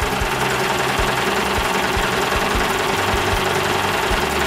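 A sewing machine stitching along a lace edge: a steady, loud, continuous mechanical whirring hum with a fast repetitive clatter of the needle running without pause.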